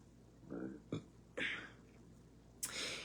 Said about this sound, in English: I'm burping, oh my.